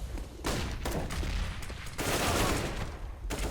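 Rapid gunfire bursts crackle in a CS:GO competitive match, loud and close, coming in several overlapping volleys with brief gaps between them and no one speaking.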